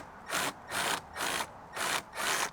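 Lock nuts are screwed onto stainless steel bolts while a stone crab trap is built, heard as five close, evenly spaced bursts of rasping, whirring fastening with short quiet gaps between them.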